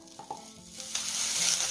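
Butter sizzles and crackles in a hot nonstick frying pan, rising into a steady hiss over a couple of seconds.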